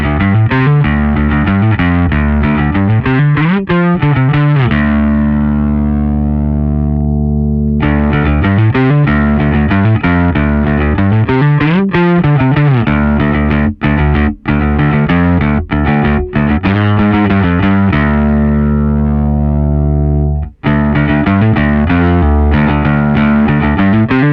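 Kaamos fuzz distortion effect on a guitar, played through the alpha and omega settings: loud, thick fuzzy tones with sustained riffs and chords, a few short pauses, no speech.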